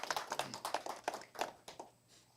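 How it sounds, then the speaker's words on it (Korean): Hands clapping at a provincial college industry-academia forum for a provincial council member, a thin, sparse patter of a few claps at close range that fades out toward the end. "도의원님께도 큰 박수 부탁드리겠습니다"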